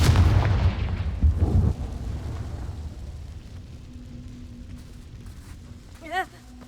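Confringo fire spell in Hogwarts Legacy, a loud booming blast at the start that fades into a low rumble, then quieter game sounds with a short chime near the end.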